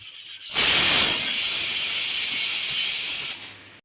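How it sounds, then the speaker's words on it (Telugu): A kitchen pressure cooker, just switched off after four whistles while boiling potatoes, vents its steam in a loud, sudden, continuous hiss that holds steady for about three seconds before cutting off. "కుక్కర్కున్న ఆవిరంతా పోయిన తర్వాత"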